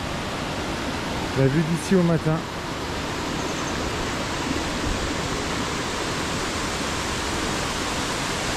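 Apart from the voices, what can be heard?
small waterfall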